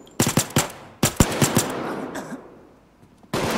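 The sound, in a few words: gunfire in Payday 2 video game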